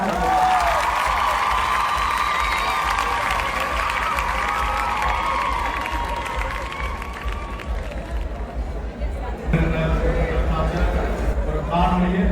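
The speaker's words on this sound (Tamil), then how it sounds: "அனைத்து கலைஞர்களுக்கும். குறிப்பாக யுகா இவ்வளவு அத்தனை பேருக்கும் அழகாக பழக்கி இந்த நிகழ்வை அரங்கேற்றியதற்கு யுகாவிற்கு பலத்த கரகோஷங்கள்" An audience at an Analaitivu community cultural evening cheers and applauds the performers, a loud crowd with clapping and shouts that eases off midway before swelling again.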